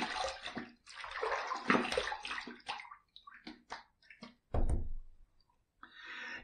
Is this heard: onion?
no